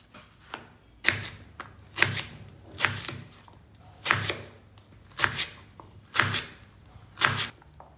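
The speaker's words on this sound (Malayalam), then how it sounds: "ചേന അങ്ങനെ തന്നെ നമുക്കൊന്ന് കൊത്തിയിടാം പിന്നെ കായ നുറുക്കാനാണ് പിന്നെ നുറുക്കിയിടാം" Elephant foot yam and plantain are chopped with a knife on a board in a home kitchen, giving about a dozen close, sharp strokes in a steady, unhurried rhythm with short pauses and no speech.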